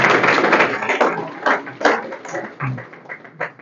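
A small audience at a job-training motivation camp claps for a student who placed first, a short burst of scattered, uneven hand claps that thins out toward the end.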